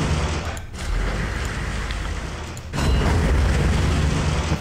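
Artillery explosions in the Warhammer 40,000 Armageddon strategy game, heard as a continuous rumbling roar of booms with a brief dip and then a louder surge, with no talking.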